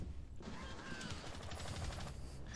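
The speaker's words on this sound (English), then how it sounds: "You hear the gunshots coming from over there." Distant gunfire in a tactical shooter game on a coastline map, a rapid string of muffled shots in quick succession, fairly faint and carried by a steady background rumble.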